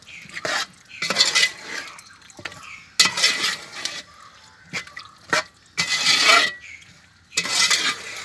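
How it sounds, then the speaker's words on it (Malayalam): Water sloshing and swirling inside a jar that held freshly ground roasted masala, in repeated bursts of rinsing with clinks of the container between them, close and fairly loud, no talk. "നമ്മൾ ശകലം വെള്ളം ഇതിനകത്ത് ചേർത്ത് കഴുകി"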